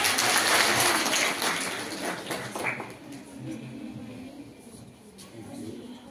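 Clapping rises from an audience at an Ayurveda Day quiz competition as a second-place winner receives a trophy, a dense, rain-like patter for roughly three seconds before fading into softer room sounds and murmuring.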